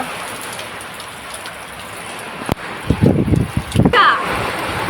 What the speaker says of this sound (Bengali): এই দেখো বৃষ্টি হচ্ছে দেখো তো